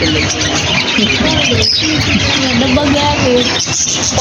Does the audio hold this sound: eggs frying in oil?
no